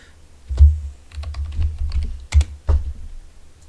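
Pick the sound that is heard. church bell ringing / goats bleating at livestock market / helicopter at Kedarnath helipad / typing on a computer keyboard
typing on a computer keyboard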